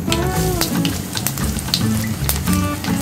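Chopped garlic with cumin, mustard seeds and dried chillies sizzles in hot oil for a mixed masoor dal tadka, a steady crackling fry with tonal clinks of stirring throughout.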